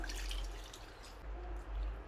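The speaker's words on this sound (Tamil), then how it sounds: "அதுக்கப்புறமா கொஞ்சமாக தண்ணி ஊற்றிக்கலாம்" Water trickles and drips into a pan of simmering Tamil-style chicken gravy with garam masala, a short, soft, close pour heard alone.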